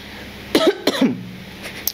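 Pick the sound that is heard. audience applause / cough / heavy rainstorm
cough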